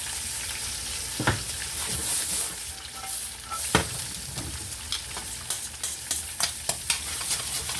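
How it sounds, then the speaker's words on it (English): Vegetables sauté in oil in a pan, a steady sizzle broken by sharp clinks and scrapes of a utensil stirring, with no talk. "Okay, keep this sauteing. A little bit more dash of oil."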